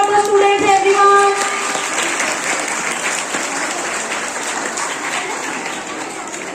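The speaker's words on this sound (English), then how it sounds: "Please clap for the students, everyone." An audience at a school annual function applauds for the students, loud sustained clapping that starts with a brief musical tone and holds steady, with some crowd murmur underneath.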